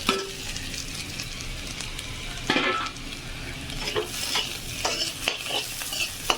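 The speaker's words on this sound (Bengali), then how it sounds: "দিয়ে ভালো করে নাড়িয়ে নেব" Fried potato chunks are stirred into spinach in a hot pan, giving close spatula scrapes and clatters over a continuous oily sizzle, with a few sharper stirring strokes in the second half.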